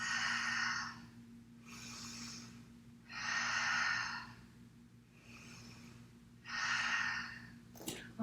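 Slow deep breaths during a yoga flow, four long airy inhale-exhale cycles each lasting about a second, steady and close over a low background hum, with a brief click at the end.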